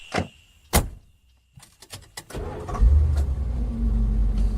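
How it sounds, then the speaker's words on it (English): A young man's car: a few sharp door thuds and clunks as people climb into the back seat, then the engine starts and settles into a steady low rumble. "Dan and Alex got into the back of the young man's car."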